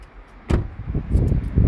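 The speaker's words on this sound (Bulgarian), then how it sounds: "Трябва да затворим тази врата." A car door on a 2016 Peugeot 2008 1.6 BlueHDI is shut with one solid close thump, followed by softer low rumbles and handling noise nearby.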